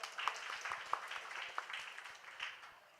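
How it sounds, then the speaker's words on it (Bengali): An audience at a World Pharmacist Day gathering of Bangladeshi pharmacists gives a faint, short round of scattered hand claps for the guests, sounding distant and thinning out toward the end. "সবাই স্যারদের জন্য একটা করতালি হয়ে যাক।"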